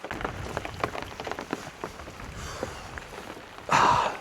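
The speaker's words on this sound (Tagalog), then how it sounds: "So ngayon, humina na yung ulan." Steady light rain patters on surfaces at a camp in strong wind, a dense hiss of drops with scattered louder taps throughout and a brief burst of heavier noise near the end.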